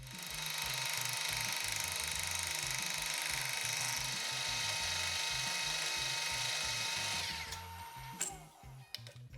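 A boring bar with an anti-vibration holder taking light cuts inside a workpiece on a lathe, a steady loud metallic machining whine holding for several seconds, then stopping and giving way to clanks and handling noises.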